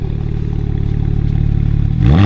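A BMW 335i with the N54 engine and an M-Sport exhaust idles with a steady, pulsing rumble, then starts to rev sharply in the final moments, heard close and loud with no talking.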